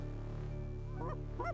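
Several Canada geese honk close by in a steady, layered run of calls over a continuous low background hum, on a hunting outing at Klamath.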